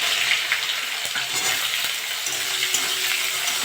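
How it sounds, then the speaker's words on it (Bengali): Bitter gourd pieces fry in hot oil with five-spice seasoning, a steady close hiss and sizzle running the whole time with small crackles and faint stirring, no voices. "উচ্ছে দিয়ে ভালো করে একটু ভেজে নেবো"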